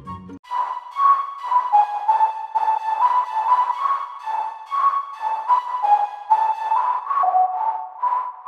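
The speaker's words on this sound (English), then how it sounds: "I replaced the lead with a whistle layered with a pluck, both with heavy reverb." A Future Bounce drop carries a whistle lead layered with a pluck, both drenched in heavy reverb, repeating a bouncy melodic phrase in short rhythmic notes with a long wash of echo.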